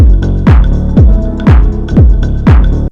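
Chopped percussion sample loop for lofi house, hits nudged off the grid for a swung feel: strong regular thumps about every half second with lighter ticks between, steady and loud, no voices.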